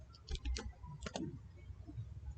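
Quick bursts of typing on a computer keyboard, a few crisp key clicks in short clusters, close and fairly quiet, with no talking.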